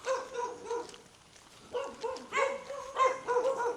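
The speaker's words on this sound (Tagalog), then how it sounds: "may mga aso lang dito" Several dogs bark in short bursts around a gravel motorcycle campsite near Manila, loud and close, with yips and a brief lull before barking resumes.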